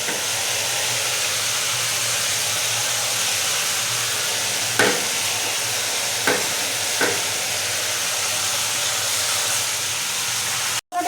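Onion and besan fritters frying in oil, a loud continuous hiss and sizzle close by, broken by three soft clicks of a utensil, then cut off abruptly at the end.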